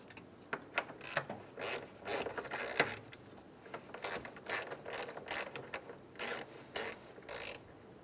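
A ratchet wrench snugs down the 10 mm bolts at the top of the condenser fan on a 2003–2008 Honda Pilot, with quick bursts of clicking ratchet strokes repeating close by and no talking.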